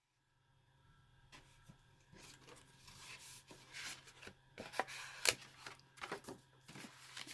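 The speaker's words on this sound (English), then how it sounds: "I need to cut that little flap off there" Scissors cutting a small flap off a paper card, a quiet series of crisp snips and paper rustles that build in loudness, with sharper cuts near the end and no talking.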